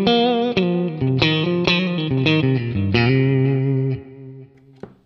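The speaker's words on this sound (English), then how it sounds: "You've got Deluxe Reverb Clean." A guitar played through a Quad Cortex using a clean Deluxe Reverb amp capture, a run of bright, sustained picked notes and chords with a chorus-like shimmer, close and alone, ending with a faint final pluck.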